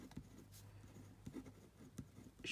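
Pen scratching across paper while filling in an accounting worksheet, a soft, close, irregular scribble with brief taps and strokes, no talking.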